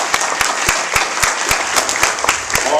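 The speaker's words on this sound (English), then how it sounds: "let's give him a round of applause." A room of listeners at a panel of Archie comics creators claps together, a dense steady wash of applause with sharp individual claps popping out at a roughly even rhythm, fairly loud and close.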